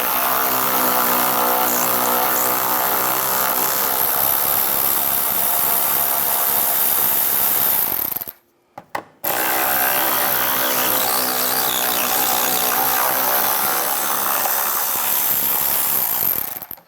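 A power tool with an 8mm socket whirs steadily and loudly, removing the screws under the bumper cover of a 2011-2019 Ford Explorer. It runs about eight seconds, cuts out briefly, then runs again just as long.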